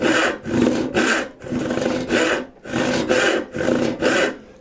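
A hand saw cutting down into wood in even, rhythmic push strokes, about nine rasping passes with short gaps between them, close and clear with no voices.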